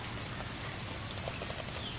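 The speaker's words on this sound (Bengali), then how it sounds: "এখন এই যে বৃষ্টির পানি রাস্তা দিয়ে যাচ্ছে" Rain falls steadily as rainwater runs along a road, making a dense, even hiss and wash with faint patters. It is continuous and moderately loud, with no voices.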